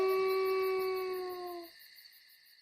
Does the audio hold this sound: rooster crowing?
no